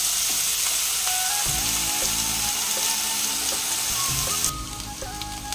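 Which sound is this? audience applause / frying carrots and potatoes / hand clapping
frying carrots and potatoes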